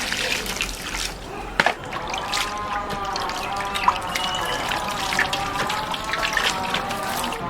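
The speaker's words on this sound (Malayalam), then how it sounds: "ആദ്യം ഒന്ന് വെള്ളം ഒഴിച്ച് കഴുകുക" Water trickles and splashes while tuna is rinsed, with a few louder clunks and drips, close up and fairly steady.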